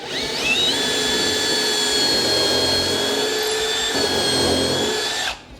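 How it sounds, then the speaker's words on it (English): A power drill whirs steadily at high speed for about five seconds, loud and close, drilling pilot holes in wooden planks for a boat, then stops abruptly. "pull the board tight, and drill my hole"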